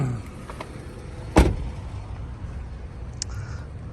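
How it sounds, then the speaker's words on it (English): A single sharp clunk from the hood latch of a 2010 Ford Taurus SEL being released, loud and close, with quiet surroundings before and after and a faint click later on. "We'll open the hood."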